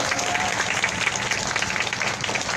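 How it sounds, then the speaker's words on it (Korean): A crowd applauds an elderly woman's arrival at the 1405th outdoor Wednesday demonstration over the Japanese military sexual slavery issue. The dense, steady clapping fills the whole stretch at an even loudness, with faint voices mixed in. "여러분 큰 박수 부탁드립니다."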